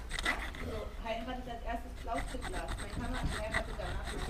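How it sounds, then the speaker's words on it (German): Rough, rhythmic rasping of a saw cutting back and forth through a hard shell, close up, with a voice speaking over it. "Hier sägt man die Schale ein."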